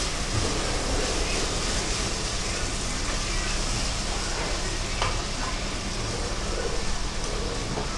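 Tomatoes sauté in a pan as a chicken curry base, giving a dense, steady sizzle with occasional stirring, close and continuous throughout.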